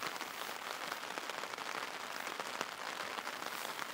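Steady autumn rain falls on a tarp and tent shelter, a dense, even patter of drops heard close and fairly quiet for the whole stretch, with no voices.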